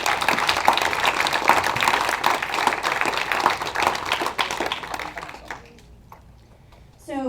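Applause from an audience at a community forum on the North Park Observatory in North Park, a dense steady clapping that fills the room for several seconds and then thins out and fades, with a voice starting again at the end.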